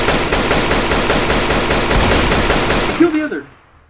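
AK rifle and shotgun fire in the video game Rust: a rapid, loud burst of automatic shots for about three seconds, then a few last bangs and a quick fade into silence.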